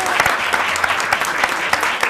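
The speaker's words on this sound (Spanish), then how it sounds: "Darle un aplauso más fuerte," An audience claps steadily at a stand-up comedy show, a brief burst of many hands applauding with a faint murmur beneath.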